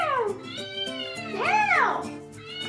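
A house cat meows close by, one long rising-and-falling cry followed by shorter mews, clear and fairly loud in an otherwise quiet indoor room.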